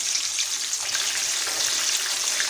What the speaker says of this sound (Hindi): बस इसको थोड़ा सा और फ्राई करेंगे हम, तो ड्रम स्टिक्स जो हमारी तैयार हो जाएंगी।